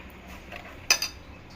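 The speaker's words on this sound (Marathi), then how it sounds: "त्याच्यावरती थोडंसं पाणी टाकून घ्यायचं आणि छान पिठाला मिक्स करून घ्यायचं" Jowar flour batter being mixed with water and baking soda in a bowl, a quiet scraping stir broken by two sharp metallic clinks of the spoon against the vessel close by.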